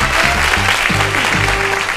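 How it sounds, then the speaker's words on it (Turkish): A quiz show studio audience applauds a contestant with loud, dense clapping that fills the whole moment, with music or tones sounding underneath. "Alkışlıyoruz Cem'i"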